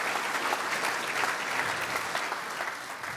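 A sizable crowd applauds continuously, the clapping thick and lively, easing off slightly toward the end.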